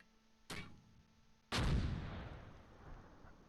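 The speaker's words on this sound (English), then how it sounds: "Another mortar." Two mortar blasts in the WWII tactical game Close Combat Gateway to Caen: a short sharp report, then a second, louder explosion a second later that rumbles and decays slowly, with no talk over it.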